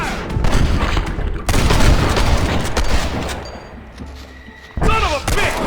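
Loud, dense gunfire from a Red Dead Redemption shootout arrives in overlapping bursts of shots and thuds. The firing pauses briefly and then resumes near the end.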